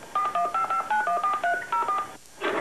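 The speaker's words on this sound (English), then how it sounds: "Press on one of those phone numbers and Newton will dial it for you." An Apple Newton pen computer dials a phone number, producing a quick run of about a dozen short, clean DTMF tone beeps in steady rhythm, followed by a brief pause and a soft burst of noise.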